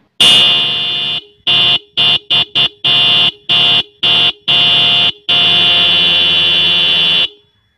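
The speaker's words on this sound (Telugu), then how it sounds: "ఇప్పుడు మీరు ఈ వెహికల్ యొక్క హార్న్ సౌండ్స్ వినండి" A Bajaj Pulsar 150 Twin Disc motorcycle horn sounds close and loud: a long blast, then a string of quick short beeps, then a final sustained honk.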